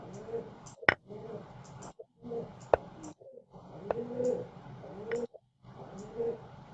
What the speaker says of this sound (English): This bird is the bane of my existence.